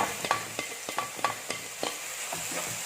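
A paste of garlic, ginger and shallots fries in a pan under a spatula, sharp scraping stirs repeating in an uneven rhythm over a soft, steady sizzle, close up.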